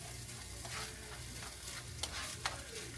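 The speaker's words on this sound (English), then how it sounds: "We're going to make sure we stir all this." Homemade shrimp fried rice is stirred in a hot pan, a steady sizzle with scraping strokes of the utensil and a couple of sharper clicks, close and fairly quiet.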